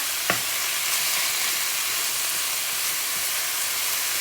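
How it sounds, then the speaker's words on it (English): Pepper-seasoned meat for pho fries loudly in a pan, a dense, steady sizzle with a brief scrape of stirring at the start. "Give it a little stir."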